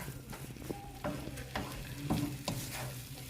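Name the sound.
stirring filling frying in a teflon pan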